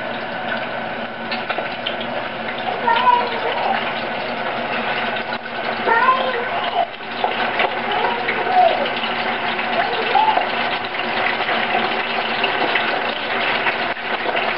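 Cubes of pork being laid into hot oil in a deep fryer for carnitas, a steady sizzling hiss with bubbling surges, heard under someone talking nearby.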